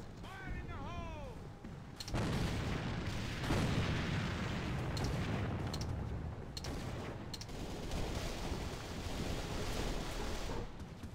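A grenade blasts in the A.V.A. Alliance of Valiant Arms shooter on the Rosten map, a loud boom with rumbling aftermath following a short game voice line, then sustained combat noise with scattered gunfire.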